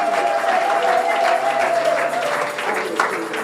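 A church congregation applauding: steady, dense clapping from many people that holds for several seconds, with a voice faintly audible over it.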